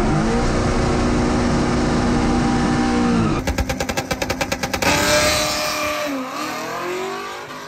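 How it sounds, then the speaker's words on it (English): A 1963 Studebaker with a swapped Gen 5 L83 V8 and TKX 5-speed runs hard on a dyno, a loud sustained engine roar that shifts to a rapid pulsing burst before settling into a lower, fading drone. "Today you're going to see us dyno my 1963 Studebaker"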